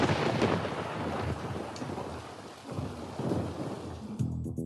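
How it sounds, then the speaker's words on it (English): Steady rain pours down with heavy rolling thunder rumbling through it, loud and close throughout, the storm swelling and easing in waves. "Oh, no. It is raining."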